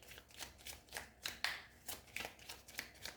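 Tarot cards are shuffled by hand up close, giving a quick series of soft riffling, flicking bursts in an uneven rhythm, quiet and isolated with no talk.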